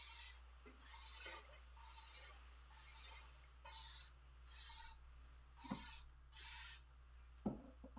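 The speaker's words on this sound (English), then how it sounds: "we're going to spray down all the surfaces" A spray nozzle hisses oven cleaner in eight short, evenly spaced bursts, each about half a second long, close by, followed by a faint clatter.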